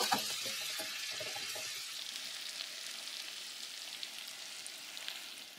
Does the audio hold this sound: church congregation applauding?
no